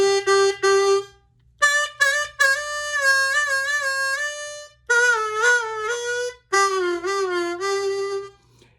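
Clear single notes played on a harmonica, several short tones then longer sustained and bending notes in separate phrases with brief pauses, close and solo with no talking.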